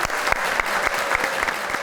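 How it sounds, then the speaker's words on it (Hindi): Audience applause during a Pakistani celebrity talk show, a steady burst of many hands clapping in a studio, dense and fairly loud with no speech over it. "तालियां।"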